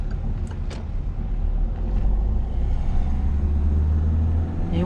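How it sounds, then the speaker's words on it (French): Car engine in a driving lesson accelerating gently, a steady low rumble and hum from inside the cabin, continuous and fairly loud throughout without talk. "Et on accélère tranquillement."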